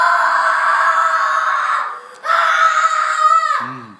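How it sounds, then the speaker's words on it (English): Loud noise game with a person screaming: a long, loud, sustained shriek that briefly dips and then resumes before breaking off into a lower, wavering tail. "That was a good scream."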